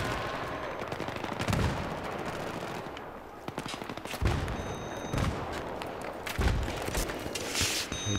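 Rapid gunfire bursts from the MP7 and other weapons in a Battlefield 3 multiplayer match, with repeated automatic volleys and heavy impacts throughout, sometimes close and loud, sometimes distant, under a constant battle din.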